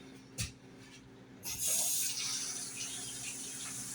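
Water pours into a shake container, a brief splash followed by a steady hissing stream that gradually softens, heard close and fairly quiet with no speech.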